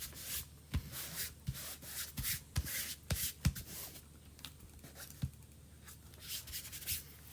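A chalk sign surface is being rubbed down by hand in a close, uneven run of scrubbing strokes, with scattered sharp taps and knocks among them.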